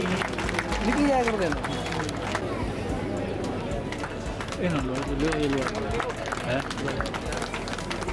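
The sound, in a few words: applause honoring dignitaries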